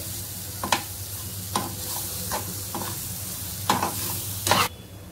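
Coconut and jaggery filling for ukadiche modak stir-fried on a low flame, with a steady soft sizzle broken by several distinct spatula scrapes against the pan, close and moderately loud, no voices.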